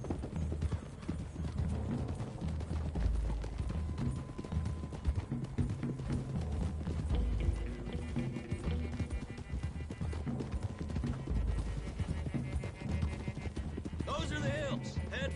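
Horses' hooves clatter in a fast, continuous gallop in the Red Dead Redemption 2 game, a group riding together over a steady bed of hoofbeats and rumble, with a brief whinny near the end and talk over the riding.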